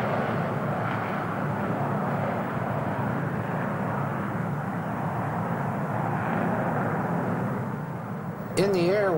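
An airplane in flight gives a steady, loud engine drone that holds evenly throughout, with a brief wavering tone rising near the end.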